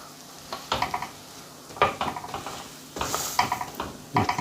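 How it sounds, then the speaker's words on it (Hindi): Bread omelette frying in a pan, a steady sizzle broken by repeated scraping and stirring clatters of a spatula against the pan, close and fairly loud, with no talking. "थोड़ी देर के लिए मैं जो दूसरी तरफ से ब्रेड वाली साइड है उसको भी फ्राई होने दूंगा, पकने दूंगा।"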